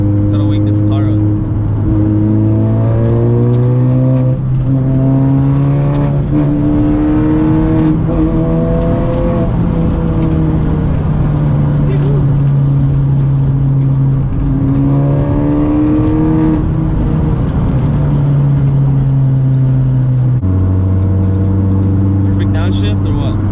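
A car engine drones and revs, pitch climbing and dropping through gears over a sustained loud roar, with voices talking underneath.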